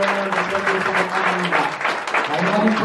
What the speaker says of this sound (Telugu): గట్టిగా చప్పట్లు కొట్టి దేవుని వైపు ఇంకా చప్పట్లు కొడతాం.